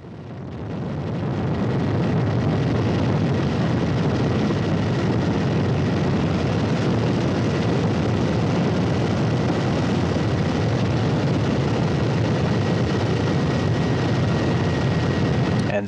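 A loud, steady roar of a Russian search and recovery helicopter in flight during a Soyuz capsule recovery, continuous broadband rumble with a faint whining tone running through it.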